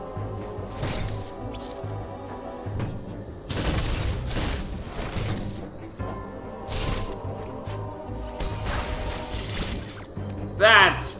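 Power bombs detonating in Metroid Dread, several loud broadband blasts about two seconds apart over a steady game soundtrack, with a sharp rising burst near the end.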